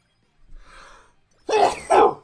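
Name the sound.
sneeze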